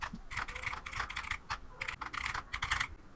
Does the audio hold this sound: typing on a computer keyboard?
yes